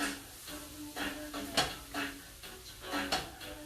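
A stir fry cooks in a pan, bound for cauliflower rice, as a utensil scrapes and clatters against the metal in a quiet, steady rhythm about twice a second, close by, with soft sizzling underneath.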